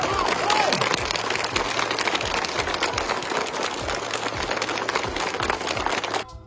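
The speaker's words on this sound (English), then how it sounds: "let's give a round of applause" A crowd claps steadily in broad, even applause throughout, fading briefly at the end, with faint voices underneath.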